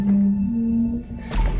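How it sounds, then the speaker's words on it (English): A loud, close wailing moan caught on camera in an eerie setting, a sustained tonal cry lasting about a second before fading into a noisy burst. "they hear what almost sounds like a loud wailing moan from somewhere very close by"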